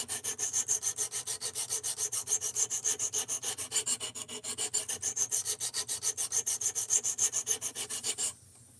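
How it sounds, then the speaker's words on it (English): A knife is sharpened with rapid, evenly spaced back-and-forth rasping strokes, close and steady for several seconds before stopping abruptly. "We're doing edge retention testing on some knives. However, we got to sharpen this."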